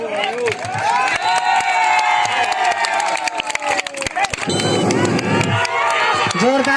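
Loud crowd noise at a match, with dense clapping and cheering for the Karimunda team, continuous and close throughout with shouting voices mixed in.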